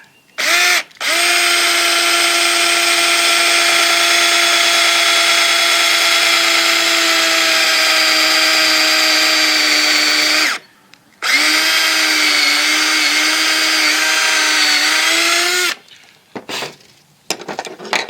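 A power drill boring pilot holes into a deer skull for a European antler mount kit, giving a loud, steady high whine in two long runs with a brief stop between, followed by a few short bursts and handling clatter, no speech.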